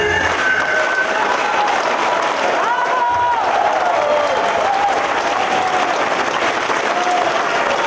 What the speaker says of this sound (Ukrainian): Їхня музична композиція викликала в залі шквал оплесків.